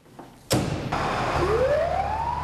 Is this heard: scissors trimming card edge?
no